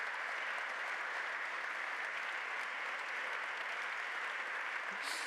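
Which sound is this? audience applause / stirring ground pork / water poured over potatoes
audience applause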